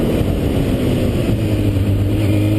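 A sport motorcycle engine revving loud and close during a wheelie, a sustained throaty roar whose pitch climbs steadily under the throttle.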